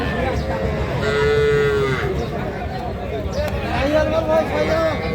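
Calves low and moo at a busy cattle market, several drawn-out calls sounding close over a constant babble of crowd voices and people talking nearby.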